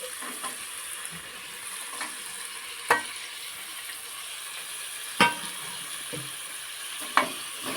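Chopped vegetables and tomato fry in a pan for vegetable pulao, with a continuous soft sizzle and a few sharp spoon scrapes and taps against the pan at intervals, no voices.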